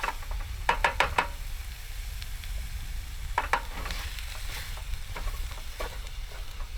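Maple sausage sizzling over a campsite cooking setup in West Virginia's Mower Basin: a steady outdoor sizzle with clusters of sharp knocks and scrapes from utensils, close by, no voices.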